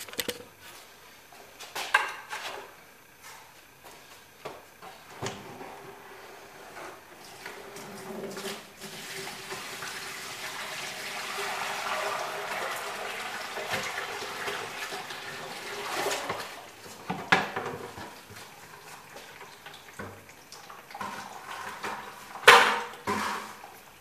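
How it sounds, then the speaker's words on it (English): Water drains from wet paper pulp packed into a coffee can, a soft running trickle and splash that swells and fades, broken by occasional clanks and knocks of the can being handled. "most of the water is draining through"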